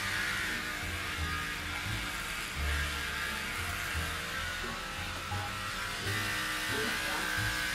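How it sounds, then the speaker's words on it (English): Electric hair clippers buzz steadily and continuously during a home haircut, a close, dense motor drone with slight shifts in pitch as the blade moves through hair. "You're shaving that off."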